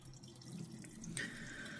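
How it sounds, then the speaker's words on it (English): Hot water poured out of a cooking pot of instant fried noodles drains into a sink as a faint, brief trickling stream. "I'm going to try and just pour out this water."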